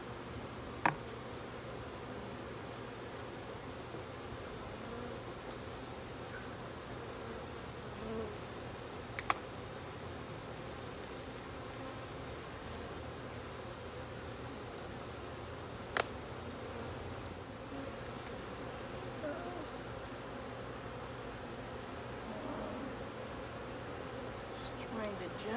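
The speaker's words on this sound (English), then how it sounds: "I don't know if you can see all the bees, but they are just everywhere." Dense, steady buzzing of many honey bees swarming around an open hive, continuous and close throughout with occasional faint knocks and rustles.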